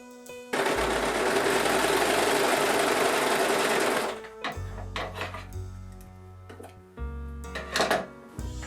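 A sewing machine runs a long jacket seam from sleeve down to hem in one loud, steady, close burst of rapid stitching, then stops for quieter handling clatter and a brief second run of stitching.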